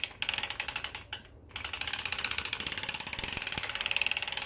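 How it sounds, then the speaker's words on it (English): A circular sock knitting machine being cranked by hand gives a steady stream of fast ratcheting mechanical clicks close up. The cranking pauses briefly, then resumes evenly with no talking. "you're gonna crank slowly until you're sure that you have yarn all the needles"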